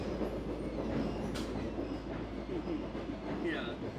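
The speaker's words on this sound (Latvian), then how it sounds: "Nu ko, Aivariņ, kā ir braukt šajā ērtajā vagonā?" Inside a moving train carriage, a steady low rumble of wheels and running gear fills the space, with a brief high squeal and faint clatter over the constant drone.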